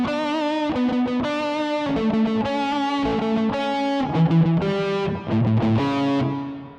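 A distorted electric guitar plays the first part of a song's solo, a fast run of sustained lead notes heard alone with no talking and a fading last note.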